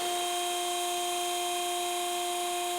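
An Extrude Hone Profile 150 abrasive flow deburring machine runs a cycle, giving a steady, fairly quiet mechanical hum with sustained whining tones and no speech.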